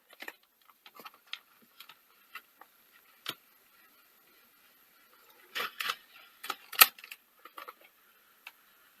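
Sony WM-FX41 Walkman running after repair, faint irregular clicks and ticking mechanical rattles close up, with a brief burst of louder clattering partway through, quiet and without talk.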